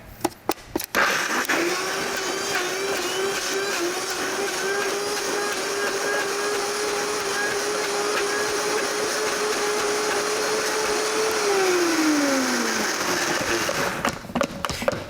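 A Vitamix blender blending carrots roars loud and close for over ten seconds, its motor pitch steady and then falling away as it spins down, with brief clunks at the start and end.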